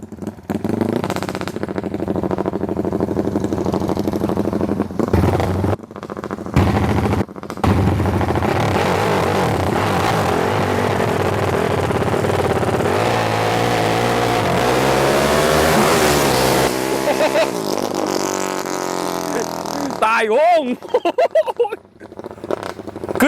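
A Honda Wave 100 motorcycle fitted with a Sonic engine and a CBR head revs hard and continuously, its engine note climbing through several rising sweeps before dropping off near the end, loud and close with brief gaps.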